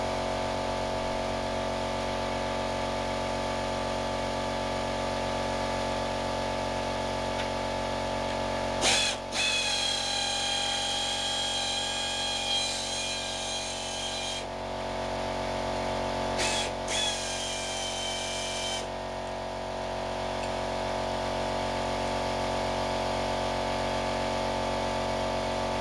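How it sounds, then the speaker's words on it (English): A small, budget electric air compressor runs continuously with a steady motor drone and hum, joined twice by a brief higher whining tone lasting a few seconds, with no talking. "So this is the old compressor that's making all the noise"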